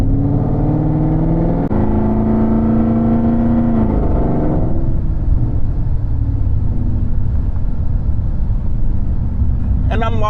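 A Ford Mustang with a naturally aspirated engine pulls hard through a few gears, a loud continuous engine drone climbing in pitch, dropping at each shift, then settling into a steady rumble, heard from inside the car.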